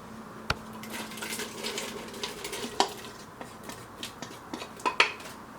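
Onions tipped into a hot pot of Portuguese bean soup with potatoes already in it, a sharp knock followed by a low sizzle and a few scattered clinks and scrapes of a utensil, fairly quiet and with no voices.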